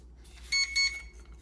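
A toy drone with GPS and brushless motors gives two short electronic beeps in quick succession during sensor calibration, fairly faint over a low background hum.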